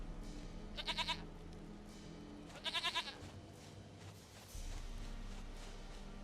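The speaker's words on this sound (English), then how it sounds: "Goat of mine, dearest, sweetest goat." Two short, quavering goat bleats from The Witcher 3 video game, a few seconds apart and fairly faint, over a low ambient background.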